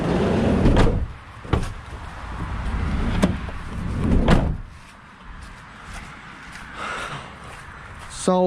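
A Mercedes Sprinter van door slides and shuts in a few heavy thuds and clunks, close by, with faint low rumble between the impacts and no talk.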